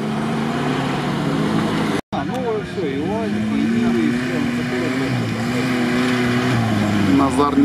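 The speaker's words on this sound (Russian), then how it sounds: "Вон четыре Нивы в кадре одновременно." Lada Niva off-road cars racing at a trophy event, engines droning and revving continuously under steady motor noise while people talk over it throughout.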